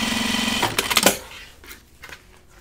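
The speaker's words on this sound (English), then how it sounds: "I'm gonna top stitch across here" A sewing machine top stitching across a dopp kit runs steadily for a little over half a second, then gives a few sharp mechanical clacks before fading to quiet handling sounds.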